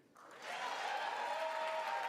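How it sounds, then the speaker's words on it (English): Republican lawmakers break into applause at the State of the Union address, a faint start that swells within half a second into steady, sustained clapping from a large crowd, heard from some distance. "Republicans started clapping"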